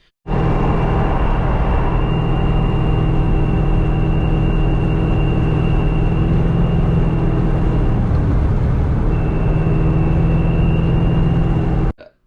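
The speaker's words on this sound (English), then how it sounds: "The rear end is actually still whining. When you're driving, like the faster you go, the louder it'll get." A Ford Mustang's rear end whines while the car is driving: a steady, thin high-pitched tone rides over loud, constant road and engine rumble, with a brief dip in the tone partway through.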